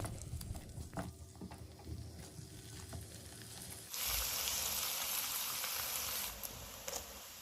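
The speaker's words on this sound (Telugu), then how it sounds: "సో ఈ పన్నీర్ని వేసుకుని లైట్ బ్రౌన్ కలర్లో వచ్చే వరకు మనం ఫ్రై చేసుకోవాలి" Paneer cubes fry in a pan toward light brown, starting as a low, quiet crackle and then jumping to a loud, steady, hissing sizzle about halfway through that holds almost to the end.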